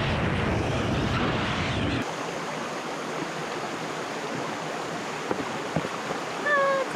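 Running creek water in the Australian outback, a steady broadband rush that drops sharply after the first two seconds to a softer trickle, with a few faint bird chirps near the end.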